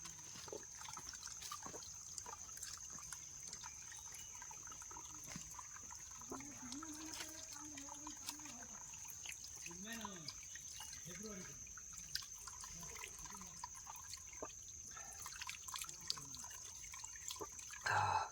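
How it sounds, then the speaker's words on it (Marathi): A small stream flowing on a misty Sahyadri mountain trek, heard as faint, steady trickling and dripping water, with a high insect-like whine overhead and people talking briefly midway. "या व्हाळातून इकडे पाणी येतं बघा."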